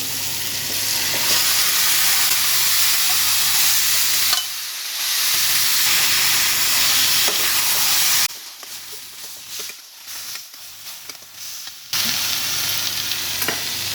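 Marinated chicken for a spicy gravy sizzling and frying loudly in a pan, a dense continuous crackle with a few brief dips as the pieces are stirred.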